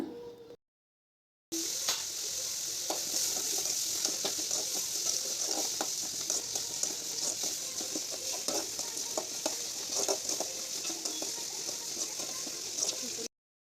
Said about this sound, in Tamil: 1 ஸ்பூன் மஞ்சத்தூள் ஆட் பண்ணி நல்லா வதக்குங்க.